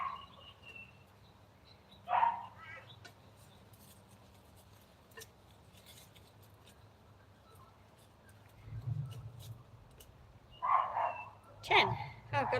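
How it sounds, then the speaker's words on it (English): Dogs barking in the distance during garden work, a couple of short bursts near the start and a cluster toward the end, with a person speaking quietly between them. "Oh, the doggies are barking."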